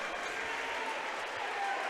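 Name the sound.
basketball crowd cheering after a two-handed dunk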